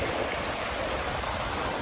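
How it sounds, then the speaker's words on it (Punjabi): Fast floodwater rushes past a broken road in Ludhiana, Punjab, in a loud, continuous churning roar, close by and unbroken, with no speech. "ਪਾਣੀ ਦਾ ਵਹਾਅ ਕਿੰਨਾ ਤੇਜ਼ ਆ"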